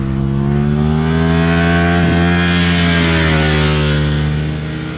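A 2020 hypernaked sport motorcycle runs hard on a race track, its engine holding a loud, steady, buzzing drone that shifts slightly in pitch midway before easing off at the end.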